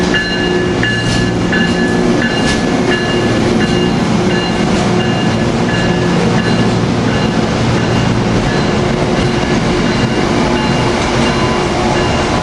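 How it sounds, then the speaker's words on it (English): A Keystone passenger train departing Cornwells Heights station rumbles steadily past with rolling wheel clatter and faint metallic squeals, a continuous close mechanical drone with no talking. "AM 7938 departing with Keystone train 655 to Philadelphia."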